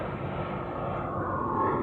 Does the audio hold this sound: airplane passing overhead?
yes